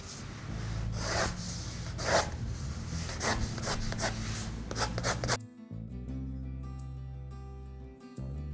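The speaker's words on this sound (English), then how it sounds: "I'm going to use graphite pencil, and for a few minutes I'm going to practice how to draw several types of lines." Graphite pencil scratches across sketchbook paper in repeated strokes, close and dry, varying between lighter and heavier pressure before giving way to quiet background tones.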